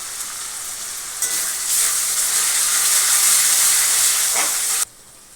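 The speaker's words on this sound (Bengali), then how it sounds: "জিরে গুঁড়ো হাফ চামচ, ধনে গুঁড়ো 1 চামচ দিয়ে এটাকে ভালো করে কষাবো" Spices with cumin and coriander powder sauté in oil with onion-tomato masala, a loud close sizzling hiss that swells after a second, holds, then cuts off abruptly near the end, with no talking.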